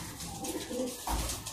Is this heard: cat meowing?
no